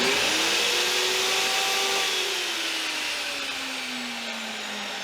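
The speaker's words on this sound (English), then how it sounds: "we'll be attempting to power up both the saw and the vacuum at the same time" A saw and a vacuum run together off a Bluetti AC300 power station, a loud steady motor whine and rushing air that slowly drops in pitch, with no talking.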